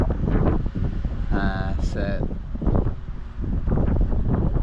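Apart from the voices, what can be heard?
wind blowing into microphone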